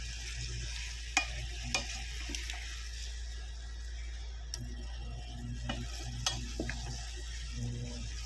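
Onions sauté in a pan for Filipino bistek, a quiet, steady sizzle broken by sharp clicks and scrapes of a utensil stirring them.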